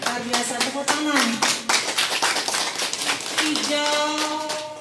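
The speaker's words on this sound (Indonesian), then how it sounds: "Luar biasa, tepuk tangan." A group claps hands in a village health post gathering, a steady run of sharp claps lasting several seconds, close and fairly loud, with voices and a child's speech mixed in underneath.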